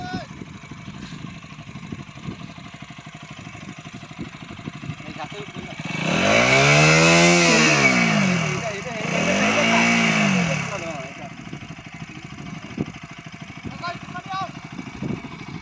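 A motorbike stuck in sand revs hard in two loud, rising bursts as several people push it free, its engine roaring close by between quieter stretches of background noise.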